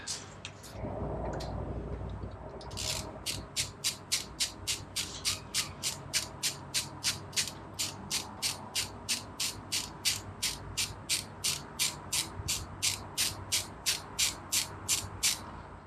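A ratchet works on a bolt at the timing chain tensioner of a BMW E92 325i's N52 engine, giving a long run of evenly spaced, close, crisp clicks after a short shuffle of handling noise.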